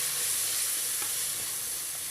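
Spices sizzle in hot oil for a goat lung fry, making a steady, close frying hiss with faint stirring, and no voices.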